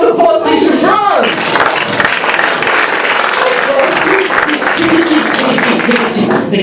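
Applause from a live comedy show audience as a guest is called up on stage, steady dense clapping filling the room throughout at close, loud level with some crowd noise mixed in.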